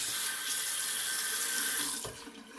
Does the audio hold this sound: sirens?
no